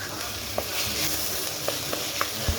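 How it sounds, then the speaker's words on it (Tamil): Garlic, ginger, onion and tomato sautéing in a pan in a steady, dense sizzle, with a few soft stirring knocks from a spoon against the pan, close by and with no talk. "5 பல் பூண்டு, கொஞ்சமாக இஞ்சி, அப்புறமா ஒரு 2 வெங்காயம், 2 தக்காளி, இந்த அளவில் போட்டு நம்ம எல்லாத்தையும் நல்லா வதக்கி எடுக்க போகிறோம்"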